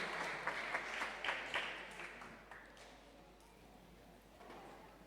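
A church congregation offers welcoming applause for a newcomer, faint and somewhat distant, with a few sharper claps early that soften and thin out toward the end.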